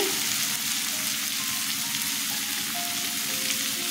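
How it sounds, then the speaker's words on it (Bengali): Ginger, chilli and tomato frying in a pan as spices go in, a steady close sizzle with faint stirring and no voices throughout. "আদা, লঙ্কা, টমেটো কষানো হয়ে গেছে, এবার অন্য মশলা দিয়ে দিচ্ছি।"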